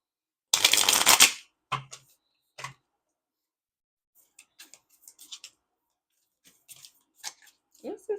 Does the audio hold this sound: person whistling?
no